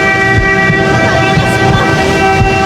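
A long, steady vehicle horn sounds loudly throughout, layered over engine rumble and traffic noise, holding without pause, clearing traffic on the way to a hospital.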